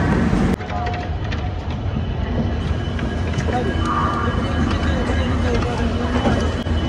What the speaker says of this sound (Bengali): এই হাওড়া থেকে ট্রেন ছাড়ছে উনিশ নম্বর প্ল্যাটফর্ম থেকে